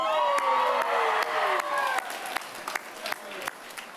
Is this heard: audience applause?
yes